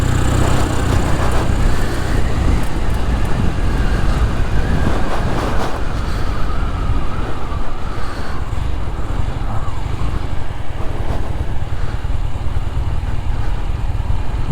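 A Royal Enfield Interceptor motorcycle engine idles loud and close in neutral with an unsettled tickover, a continuous rough rumble with wind buffeting over it.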